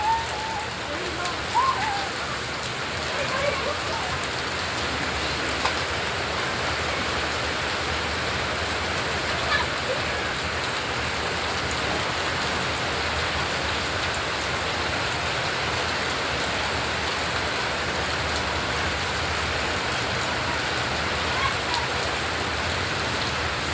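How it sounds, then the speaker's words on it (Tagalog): Steady rain falling and pattering on surfaces, a continuous dense hiss throughout, with faint distant voices now and then. "Patapos na yung ulan."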